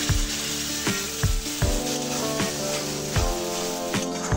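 Ground masala with turmeric frying in a pan for rohu fish-head kalia: a continuous close hiss of sizzling, punctuated by regular knocks of a spatula stirring roughly every three-quarters of a second.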